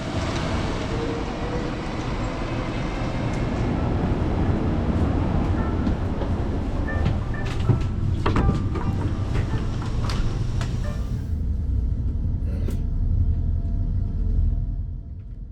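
KTX-Eum train standing at a station platform at dawn, a low continuous rumble and hum with scattered clanks and squeals, fading toward the end.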